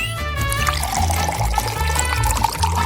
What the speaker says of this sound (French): Et voilà, on peut le mettre dans une tasse.